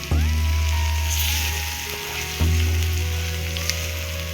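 Prawns fry on a low flame in a home kitchen pan, giving a loud, steady crackling sizzle with a strong hum underneath and occasional sharp pops and stirring clicks.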